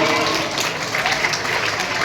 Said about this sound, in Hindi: जोरदार तालियां एक सबके लिए